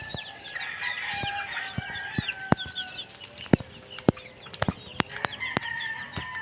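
Several roosters cluck and squawk nearby, with a crow among them and sharp clicks or taps scattered throughout.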